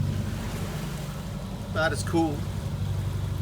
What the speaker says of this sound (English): Motoring slowly because we're making water.